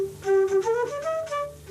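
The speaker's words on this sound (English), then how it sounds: "by putting a microphone inside the flute here and passing it through this gear, we can get a sound like this." Flute picked up by a microphone inside the instrument and fed through Moog synthesizer gear in 1970, giving a clear sustained tone that glides between a few held notes, close and alone with no talk.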